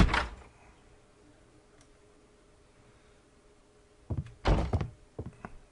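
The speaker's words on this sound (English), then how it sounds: "Door." A door opening in the Sherlock Holmes Crimes and Punishments game, heard as a soft thunk at the start and a louder burst of knocks and clatter near the end, set against a quiet room.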